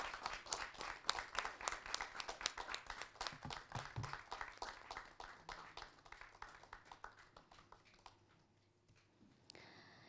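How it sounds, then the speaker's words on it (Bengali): Applause at a press conference, with rhythmic, fairly close hand claps in a steady beat that gradually thin out and fade to near silence. "করতালি অবশ্যই চাই সবার কাছ থেকে"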